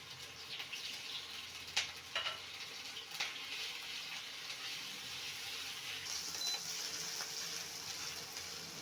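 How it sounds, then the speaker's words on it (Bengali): Crushed ginger and green chilies frying in hot oil in a home kitchen, a soft, continuous sizzle with a few sharp crackles and spatters early on, fairly quiet and without talk. "আদা আর কাঁচা লঙ্কাটা একটু ভালো করে ভেজে নেব, কাঁচা গন্ধটা চলে যাওয়া পর্যন্ত।"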